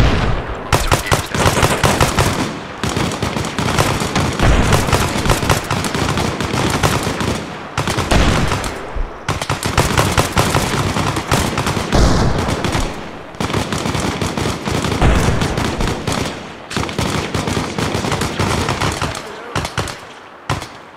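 A firefight in Arma Reforger during a Vietnam jungle combat patrol: dense, loud automatic bursts and rapid shots hammer almost without a break, with brief gaps between volleys.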